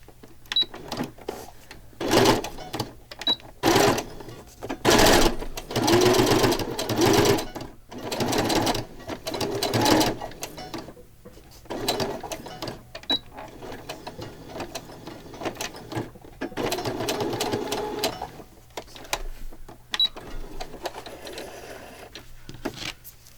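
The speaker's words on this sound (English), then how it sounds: "And I'm going to stitch around this washi tape." A sewing machine stitches around washi tape on a paper pocket journal page in rapid mechanical whirring bursts that start and stop. Quiet pauses fall between runs, close and loud, with no talking.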